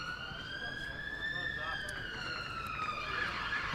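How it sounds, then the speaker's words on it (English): A fire engine siren wailing in the distance near a cricket ground during a one-day match, its rising and falling tone slowly sweeping past over steady outdoor background noise. "Oh, it's a fire engine this time as opposed to"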